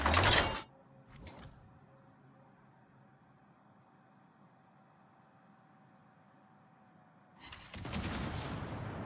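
Warship guns fire at a destroyer in World of Warships. Loud booming salvos open and close the stretch, and a long quiet hum of ambient game sound fills the time between them.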